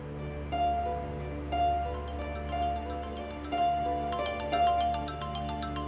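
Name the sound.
phone ringing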